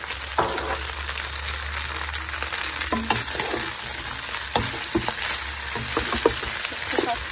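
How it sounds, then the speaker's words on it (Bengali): Tuna pasta with mozzarella cheese and mixed peppers is stirred in a hot pan, a continuous sizzle with repeated clicks and scrapes of the spoon against the metal. "আমি খুব ভালো করে মিশিয়ে 1 মিনিট নেড়ে ফেড়ে নামিয়ে ফেলবো।"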